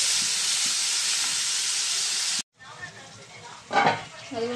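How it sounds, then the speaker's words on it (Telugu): Onions and tomatoes sizzle steadily in hot oil while frying for an egg curry, a loud continuous hiss that cuts off abruptly, then quieter frying with stirring clatter returns. "ఉల్లిపాయలు బాగా మగ్గుతున్నాయండి. బ్రౌన్ కలర్లో వచ్చేసినాయి. టమాటాలు కూడా వేసుకున్నాం మనం."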